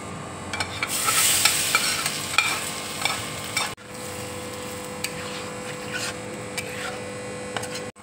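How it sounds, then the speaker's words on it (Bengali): Dry red chillies crackle as they temper in hot oil for dhaba-style palak paneer, a close, steady sizzle punctuated by stirring scrapes and small clicks of a utensil, with no speech. "শুকনো লঙ্কা ফোড়ন দিচ্ছি।"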